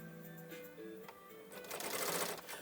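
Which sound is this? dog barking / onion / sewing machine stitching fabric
sewing machine stitching fabric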